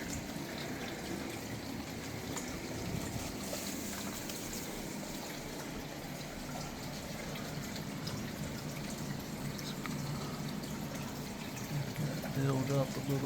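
Creek water flowing down a hillside, smashing into a rock and swirling in small pools, a steady close rushing and gurgling wash that holds constant throughout with no pauses.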